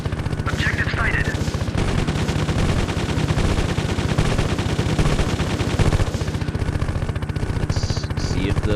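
A 20 mm cannon fires on tanks in the helicopter game Gunship, a rapid, continuous stream of loud shots with a relentless rhythm and steady engine rumble beneath, with no talk.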